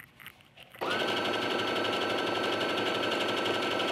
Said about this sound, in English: you can also stitch at this point with straight stitch if you like.